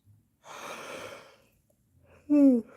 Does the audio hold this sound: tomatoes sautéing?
no